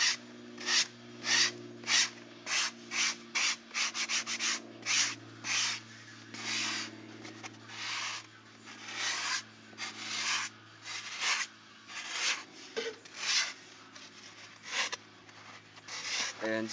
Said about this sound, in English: I'm just going to start sanding it down again